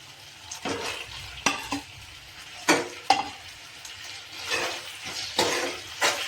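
Tomato added to a pan with boiled potato for aloo curry and fried, close utensil scrapes and clinks recurring over a gentle sizzle, no voices.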